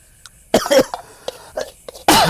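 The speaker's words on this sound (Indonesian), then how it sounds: "Batuk-batuk." Several close, harsh coughs in quick succession outdoors during Eid al-Adha cooking, with short gaps between them and a final loud cough at the end.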